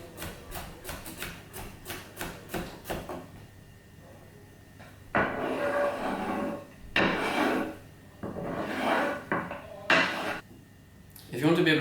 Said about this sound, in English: start chopping with the rock chop